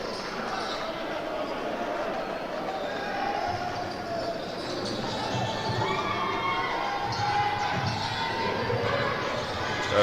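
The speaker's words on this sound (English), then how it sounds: "you can hear the fans cheering for him, shouting, Chanet, Chanet" Fans at a youth basketball game between Senegal and Côte d'Ivoire cheer and chant a player's name, a broad steady arena roar that swells slightly toward the end, with a commentator talking over it.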